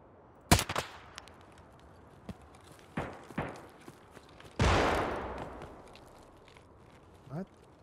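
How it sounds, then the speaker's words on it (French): Scattered gunshots in Escape from Tarkov, a few sharp isolated cracks spread apart, then one louder blast with a long decaying tail, at moderate distance. "J'ai cru entendre des tirs."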